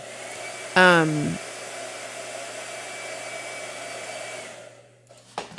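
A blow dryer switches on with a brief rising whine, then runs with a steady, close airy roar for several seconds before shutting off near the end.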